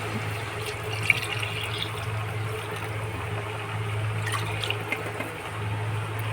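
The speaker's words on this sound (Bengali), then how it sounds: "আমি মশলার সাথে ভাতটা মিশিয়ে এবার ওই মেপে রাখা জলটা দিয়ে দেবো।" Measured water is poured into spiced rice for chicken biryani, giving a continuous close splashing flow at moderate volume over a low background hum. There is no talking.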